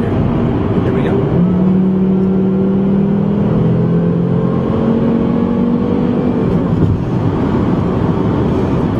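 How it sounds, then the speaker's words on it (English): Volvo S60 R pulling hard from a rolling start in sport mode, engine note climbing steadily over several seconds beneath wind rush, heard from inside the car. "we're in our sport mode here, and we'll get a little roll on start here"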